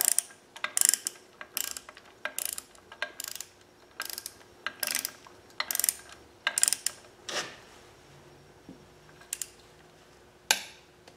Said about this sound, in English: I will torque my oil pump bolt down to 60 foot-pounds in three increments